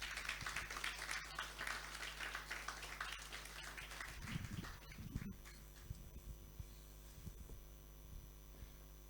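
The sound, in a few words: luncheon audience applauding after speech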